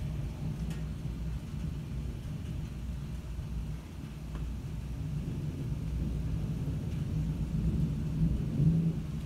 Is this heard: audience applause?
no